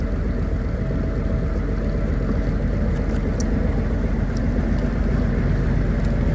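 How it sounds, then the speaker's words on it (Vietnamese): Engine of a fishing buyer boat drawing up alongside an anchovy fishing boat off Khánh Hòa, a steady loud droning rumble with wind and water noise, no voices. "Bây giờ ghe thu mua chuẩn bị đang chập vô ghe đánh bắt để lấy cá các bạn."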